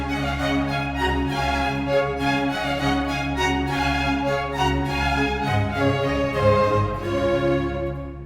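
A string ensemble plays the ritornello from Vivaldi's Four Seasons in a major key, with steady sustained harmonies and a bright melodic line that fades at the end.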